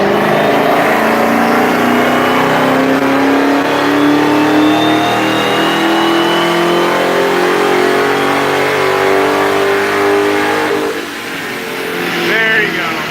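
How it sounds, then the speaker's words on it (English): A Dodge Hellcat's engine revs hard on a chassis dyno in eco mode, a loud steady drone that climbs in pitch for about eleven seconds before easing off, with a brief voice near the end. "That sounds like a Hellcat there."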